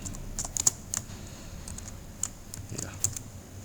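Scattered keystrokes on a computer keyboard, clicking in short uneven bursts at moderate distance over a faint steady room hum, with no talking.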